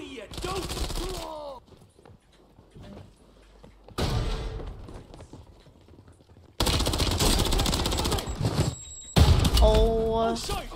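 Gunfire from a Call of Duty Warzone match on Rebirth Island, loud dense bursts in several stretches separated by quieter gaps, with a player's voice talking over the action.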